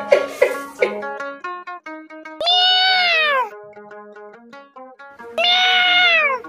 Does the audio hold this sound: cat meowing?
yes